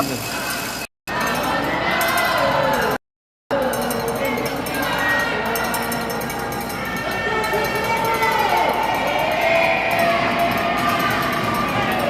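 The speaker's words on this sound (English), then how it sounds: "Got the crowd jumping here with that one" A dense crowd at a Kitchener versus LSL sports game roars and cheers continuously under an excited commentator, with a constant wash of noise and scattered shouts.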